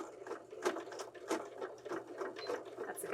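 A sewing machine stitches the piping seam of a pillow, running in short rhythmic bursts of rapid needle clatter, close and steady with brief pauses between runs.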